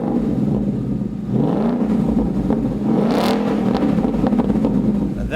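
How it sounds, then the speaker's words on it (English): Loud, deep rumbling exhaust from a 2015-2017 Ford Mustang GT fitted with a Roush axle-back quad-tip system, plates removed, idling and swelling into a couple of throaty revs, steady and close throughout. "That's the kind of sound we're used to from Roush's aftermarket exhaust."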